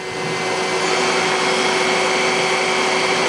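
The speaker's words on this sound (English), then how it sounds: "Now we're going to run the sub spindle." Sub spindle of a Citizen L32VII CNC Swiss lathe spinning up, a loud steady high whine with a constant tone holding throughout, no talk.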